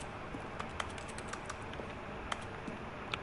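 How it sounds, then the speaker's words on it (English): Computer keyboard typing with an echoey, reverberant quality, quick irregular key clicks standing out over a constant noisy background, no one talking. "Echoey keyboard."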